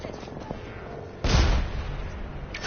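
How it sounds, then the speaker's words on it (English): A single grenade blast in the Apex Legends battle royale game goes off as a sudden booming burst midway through, over a steady low background of distant combat. "Trying to kill me with grenades"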